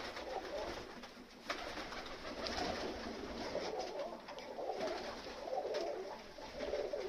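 Pigeons being fed outdoors in winter, a steady soft murmur of cooing and fluttering birds close by, continuous throughout with no talk.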